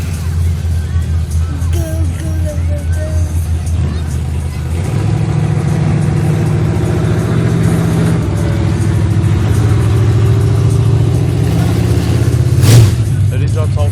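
A car engine rumbles and revs at a woodpecker mud drag, its loud low drone swelling midway over crowd chatter and voices nearby.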